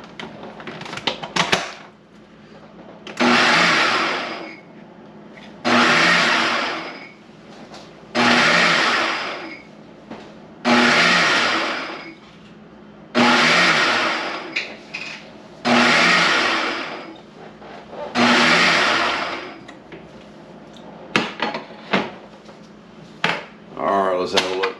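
A food processor chops an imitation crab mixture of black drum fish with cornstarch in a run of about eight loud, close pulses, each a couple of seconds long and separated by brief pauses, with handling clatter at the start and end.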